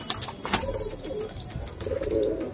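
Desi high-flyer pigeons coo in soft, repeated low calls close by, against a busy outdoor background, with no talking.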